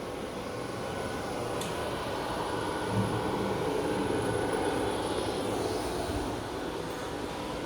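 A Singulator candy packaging machine runs on a trade-show floor as a steady, loud mechanical drone with a constant hum, a faint high whine and a couple of brief clicks, with no talking.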